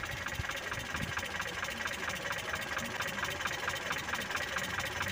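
A Mitsubishi Colt T120 engine idles after a distributor timing adjustment, a steady, fairly quiet mechanical chatter with an even rhythmic ticking throughout, heard on its own.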